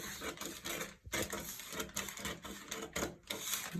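Scissors cut through a paper bodice pattern piece in quick, close crunching snips and rustles, with brief pauses between strokes and no talking.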